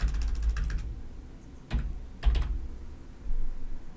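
Typing on a computer keyboard while filtering a list in Dynamics NAV 2017 web client: a quick burst of key clicks, then two separate sharp keystrokes, close and fairly loud against quiet room hum.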